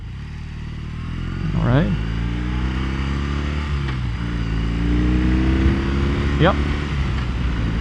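A BMW R18 motorcycle rolls on the throttle in first gear, its low, heavy engine drone rising steadily in pitch as it accelerates, heard from the rider's position with brief spoken remarks over it.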